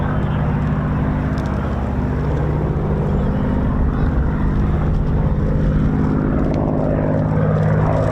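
A Battle of Britain Memorial Flight vintage propeller aircraft performs a victory roll at the RAF Cosford Air Show, a continuous throaty engine drone filling the air, loud and steady throughout with faint crowd murmur beneath.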